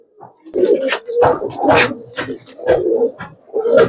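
Several close silver pigeons cooing in repeated low, throaty bursts, overlapping one another with short pauses between calls.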